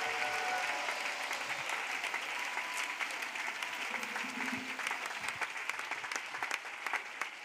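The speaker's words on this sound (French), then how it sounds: "Clap loudly." An audience at a prayer and worship gathering bursts into loud, sustained applause, dense and continuous from start to finish with no gaps.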